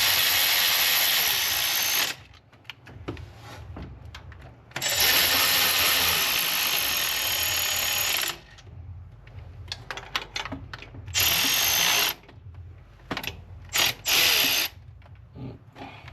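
A ratchet spins bolts down on a 2010 Subaru Forester during a timing belt reinstall, with long rapid clicking runs broken by pauses and short bursts, close and loud with no speech.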